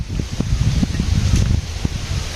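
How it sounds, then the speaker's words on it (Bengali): Strong outdoor wind buffeting the microphone in a rural village yard, a low rumbling roar with gusty surges and brief rustles, loud and continuous with no speech. "একটু জোরে বাতাস"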